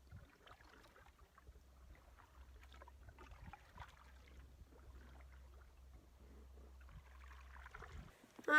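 Quiet paddle strokes and soft water drips from an H2O Pack 12 pack boat canoe paddled solo, kayak-style, on Cat Lake in Haliburton, with a steady low hum running underneath and no talking.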